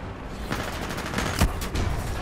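In the video game Titanfall 2, Mastiff shotgun blasts land amid rapid in-game gunfire: several sharp, punchy reports over a couple of seconds, one standing out louder near the middle, close and crowded.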